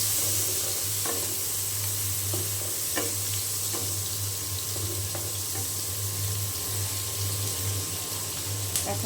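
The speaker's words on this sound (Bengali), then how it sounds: "এখন পেঁয়াজ খুব ভালো করে আমি ভেজে নেব" Chopped onions frying in plenty of oil for a pangas fish and taro curry, a steady close hiss and sizzle with faint scraping stirs, no talking.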